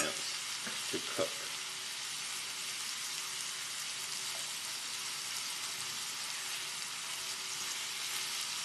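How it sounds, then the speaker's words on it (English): Shrimp sizzle steadily as they fry in a pan slightly too small for them to lie flat, with a few soft scraping knocks from stirring near the start and a constant hiss throughout. "I'm moving the shrimp around a little more than I usually do, only because the pan is not quite large enough to allow the individual shrimp to lie flat in the pan."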